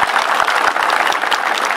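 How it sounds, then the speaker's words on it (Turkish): Outdoor crowd at a fig festival in Dalaman bursts into steady, loud applause, a continuous dense patter of many hands with no talk over it. "Bir alkış rica edebilir miyim?"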